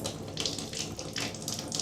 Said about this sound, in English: Next you want to do is empty all the water once your water main valve is turned off.